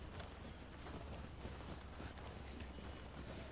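Horse hooves in The Last of Us Part 2, a steady stream of soft clip-clop steps mixed into a dense, faint background wash.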